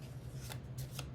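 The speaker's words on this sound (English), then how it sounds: "shuffling my cards as I'm working through this" A Lightseers tarot deck being shuffled, giving soft papery riffles with two or three crisp flutters over a steady low hum, close and fairly quiet, with no voices.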